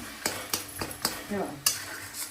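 Brinjal bharit is stirred in an iron wok with a spoon, giving sharp scraping clanks about every half second over a soft, steady sizzle, close and alone.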